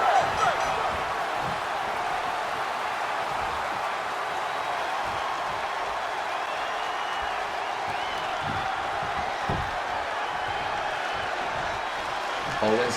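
Arena crowd in the WWE Raw Universe Mode video game at a Louisville wrestling show, a steady, distant roar of many voices that holds evenly throughout with no clear peaks.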